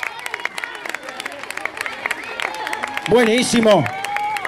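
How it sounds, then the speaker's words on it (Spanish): Crowd clapping and cheering for the women of a murga troupe at a carnival corso parade, steady scattered applause under tonal whistles and music, with a brief voice speaking and a louder burst of cheering near the end. "El aplauso para nuestras mujeres"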